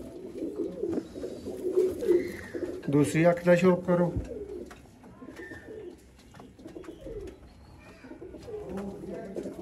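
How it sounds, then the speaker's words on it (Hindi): Firozpuri pigeons coo in low, throaty bursts close by, mixed with someone talking over them. "फिरोजपुरी कबूतर"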